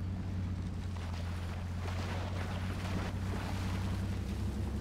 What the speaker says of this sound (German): Also ich fahre im dritten Gang hier durchs Wasser.